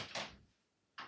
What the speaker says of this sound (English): I'm just going to go and open that door